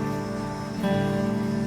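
Guitar strings strummed and picked up through a transducer, giving a sustained ringing chord with a fresh, slightly louder strum about halfway through. No voices.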